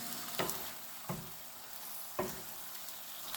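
Japanese eggplant sautés in a pan as a stir-fry, giving a soft, steady sizzle with a few sharp clacks of a utensil against the pan, close and fairly quiet, with no talking.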